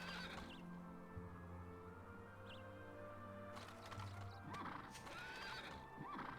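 A horse in the video game Dragon Quest VIII whinnies loudly, followed by a clip-clop of hooves and a second neigh, with faint bird-like chirps in the background.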